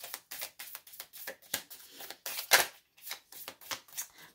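Love oracle cards are shuffled in quick, crisp slaps and flutters, a rhythmic run of separate card strikes with brief pauses between them and no speech.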